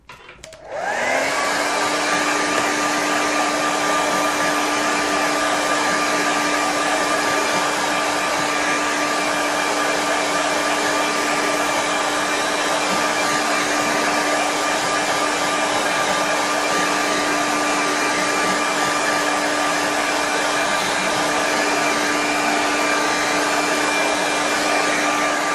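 A hair dryer blows steadily on a watercolour painting, a loud continuous whooshing drone with a constant motor whine, starting abruptly and running unbroken with no voices.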